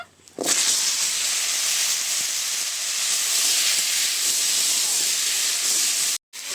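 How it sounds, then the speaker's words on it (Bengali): Taro and potatoes fry in hot oil in a kadai, giving a loud, steady hiss-like sizzle that runs almost unbroken, with a brief cut near the end. "এই তেলে কচু আর আলুটা ভেজে নেব"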